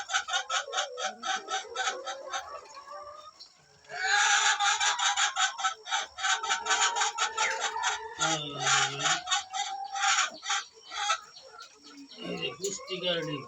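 Chickens on a small village poultry farm of about 150 birds cluck and call in dense repeated bursts, some louder stretches and a brief lower call midway, with a voice speaking among them.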